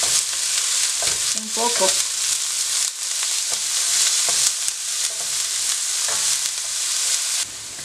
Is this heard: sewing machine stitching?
no